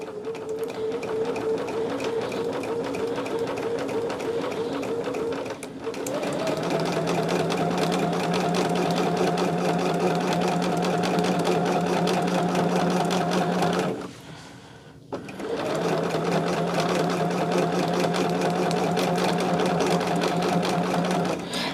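Two fabric layers are quilted together on a sewing machine that hums loudly and steadily in two long runs, with a short pause between them.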